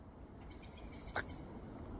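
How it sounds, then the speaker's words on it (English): A single faint bird call rings out briefly over quiet, hissy outdoor background ambience at a misty campsite. "Oh, I heard a bird at last."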